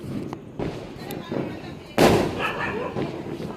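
Diwali firecrackers pop in a string of sharp bursts, with one loud, close blast in the middle and smaller cracks around it. Voices talk through the bangs.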